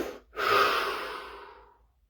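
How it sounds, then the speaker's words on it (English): A single deep breath drawn in and slowly let out during a guided relaxation exercise, a brief gap followed by a long, soft, airy exhale that fades over about two seconds, close and alone. "Deep breath."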